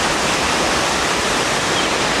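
A creek rushing over a rock ledge into Springfield Falls, a steady loud broadband roar of falling water with no pauses.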